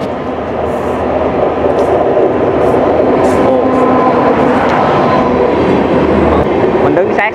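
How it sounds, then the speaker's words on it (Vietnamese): A train rolls past only centimetres away beside homes in a New Delhi slum, a loud, continuous rumble and rattle of rail cars with rhythmic clatter throughout. "Mình đứng sát xe lửa chỉ có vài cm thôi"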